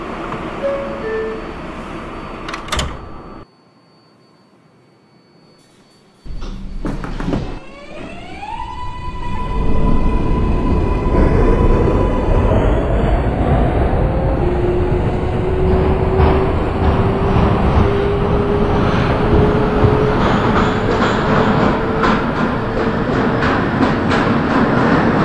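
In the game Hmmsim 2, R142A subway train doors on the 6 line thud shut, then the train starts moving, its motor whine rising in pitch as wheels rumble and clatter steadily.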